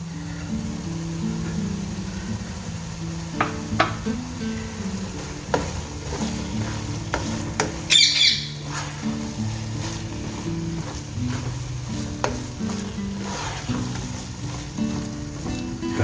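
Minced meat fries in a pan with garam masala while a spoon stirs it, giving a steady sizzle under repeated scraping and clinking strokes and occasional sharper knocks, close and moderately loud, with no talking.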